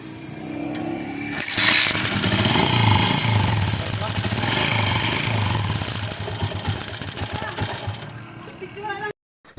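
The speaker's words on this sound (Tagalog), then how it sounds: "habang sinisipa ni Manong yung kanyang starter ay umandar kaagad" A motorcycle kick-started, its engine firing at once and running with a steady rough idle, loud and close, with broadband noise and rhythmic mechanical pulsing before it cuts off abruptly at the end.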